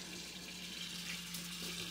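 Hot water runs steadily from a kitchen tap into a sink during baking-soda cleaning, a continuous hiss and splash heard on its own at moderate volume.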